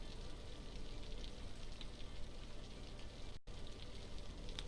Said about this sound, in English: Why is the rain still going on?